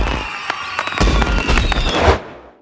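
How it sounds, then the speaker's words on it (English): Fireworks burst in a rapid series of sharp, loud cracks and booms over a crackling wash, the volume rising toward the end before fading out. "the fireworks continue, cutting her off"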